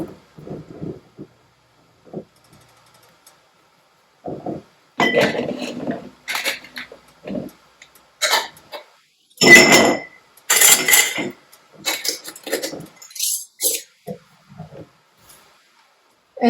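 Glass jars of Christmas jam clink and knock against the metal of a canner as they are loaded one after another, with irregular sharp, close bursts separated by short pauses.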